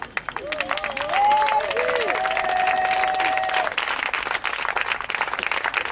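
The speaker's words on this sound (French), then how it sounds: "Tiens-toi debout et acclame très fort le Seigneur." A standing church congregation applauds and cheers loudly for the Lord, sustained crowd clapping with whoops and shouting voices throughout.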